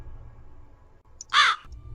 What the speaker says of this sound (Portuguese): Existia um corvo que eles nomearam de Tsero.